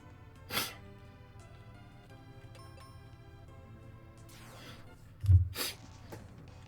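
A person sneezes sharply, a short burst near the start and a louder one near the end, over a faint background with tonal hum and light ticking.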